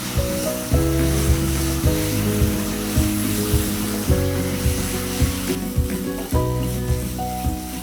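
Sauce being stir-fried and dried down in a hot pan during a Thai cooking show, a steady loud sizzle broken by repeated scraping, clattering strokes of a utensil stirring through it, with no talking.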